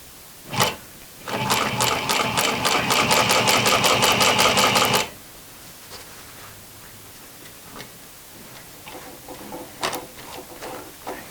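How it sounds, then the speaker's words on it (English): A sewing machine stitches denim jeans in a rapid, steady run of about four seconds, preceded by a single short burst and followed by quieter handling noises and faint clicks. "stitch down to the end here"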